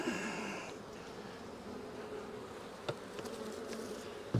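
Honeybees buzz steadily around an opened nuc hive during an inspection, a continuous close hum with a few faint knocks and clicks of hive handling.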